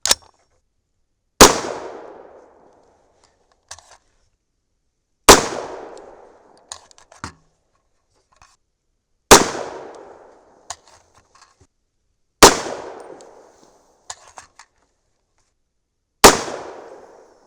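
A 300 Blackout pistol fires 225-grain Hornady BTHP Match subsonic loads over Reloder 7 powder, five sharp outdoor reports spaced several seconds apart, each with a decaying tail and faint clinks and handling noises between shots.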